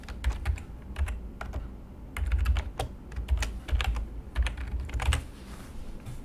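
Fingers typing on a computer keyboard, bursts of quick close key clicks broken by short pauses, with no voices.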